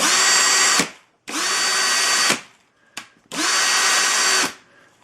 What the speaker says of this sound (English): sound of a working electric brake